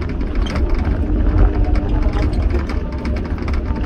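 Doosan 140 excavator running nearby with a steady, low, rattly diesel rumble that holds continuous and loud throughout.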